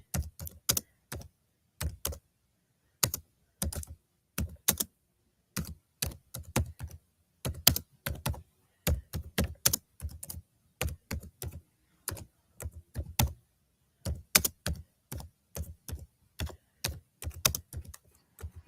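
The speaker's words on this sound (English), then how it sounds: "Typing one-fingered." Slow one-fingered typing on a computer keyboard: separate close key taps and small clusters of clicks with uneven gaps, continuing steadily in a quiet room with no talking.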